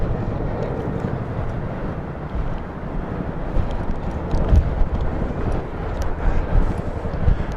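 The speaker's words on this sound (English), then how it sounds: "I can hear the Lancaster engines." Deep, rumbling drone of Avro Lancaster bomber engines flying overhead during a flypast, steady and moderately loud with wind buffeting the microphone, no talking.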